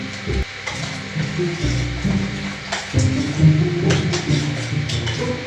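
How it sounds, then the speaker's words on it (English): Melting wax being stirred in a pot with a crayon dropped in, giving soft scraping and clinking of the stirrer against the pan with a faint sizzle, steady and close throughout. "And keep stirring."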